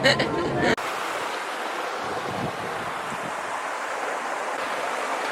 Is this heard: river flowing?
yes